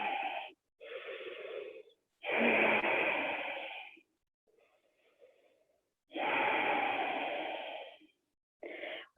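Slow, deep yoga breathing fills the quiet: loud, close, drawn-out breaths in and out, each lasting one to two seconds, separated by short silences, with no talking.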